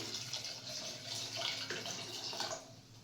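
A steady, quiet stream of water poured into a pot of lentil soup splashes and gurgles for a few seconds, soft and close, with no voices.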